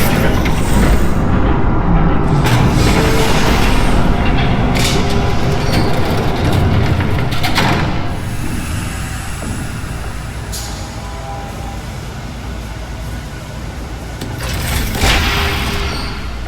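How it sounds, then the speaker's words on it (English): In the Batman Telltale Series video game, a train rumbles past with a loud, continuous roar and rattle. It stays close and heavy throughout, with a few swells and clanks along the way. "There's a train coming."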